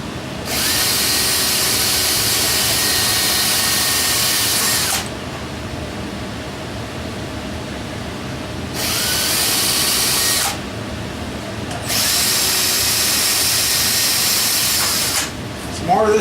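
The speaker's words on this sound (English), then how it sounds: "Just going to drill a hole in them." A power drill bores holes into engine galley plugs during engine rebuild work, running in three long loud bursts with short pauses between, close to the listener.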